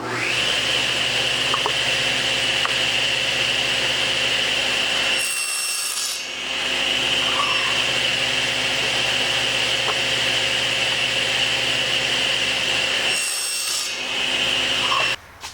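A hand saw cuts wooden frame pieces in repeated long, raspy strokes that sound close and steady. Two short pauses break the sawing.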